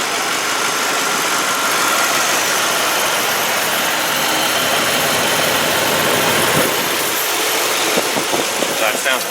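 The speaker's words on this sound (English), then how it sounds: "I'll shut up for a minute and let you guys listen to this motor." A 2001 Ford Explorer AWD engine idles with a steady, loud mechanical hum and no voices heard.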